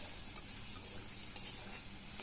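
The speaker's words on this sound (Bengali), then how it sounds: "কিছুক্ষণ ভেজে নেব।" Onions and sliced green chillies fry in hot oil in a pan, giving a steady, close sizzle with faint stirring scrapes throughout and no talking.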